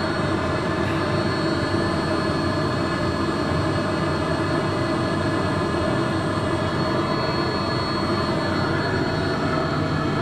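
A Honda Accord engine, just started in freezing cold, runs with a steady, dense roar unbroken throughout, loud and close, with a constant low rumble and no talking.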